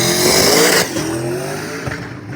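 A Ford truck spins out during a race, its tires squealing loudly over roaring engine noise before the screech cuts off and the engine carries on at a lower level.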